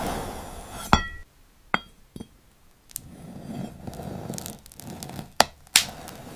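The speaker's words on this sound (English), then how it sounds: "This glass fruit cutting video was created entirely by AI in just 10 seconds" Crisp glassy clinks and sharp cutting snaps from an AI-generated scene of glass fruit being sliced, several distinct loud hits spaced apart between quieter rustling, with no voices.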